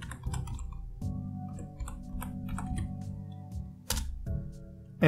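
A password typed on a computer keyboard during a Linux Mint 19 upgrade: a quick run of close, crisp key clicks over a low steady electronic hum, ending in a louder tap.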